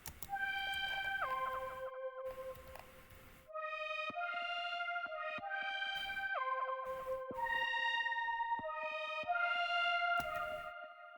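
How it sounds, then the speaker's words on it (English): A synth lead designed in the Poison synthesizer for a trap beat plays a bright, buzzy melody of sustained notes that glide between pitches, in loud phrases separated by short silences. "And then I made a lead sound also with Poison."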